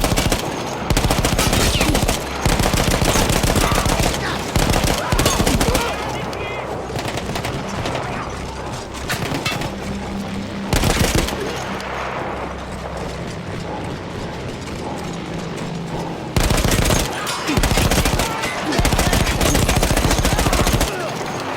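Machine gun fire in Battlefield 1, loud rapid bursts of automatic shots with short pauses between volleys and mechanical clatter throughout, over a dense wartime din.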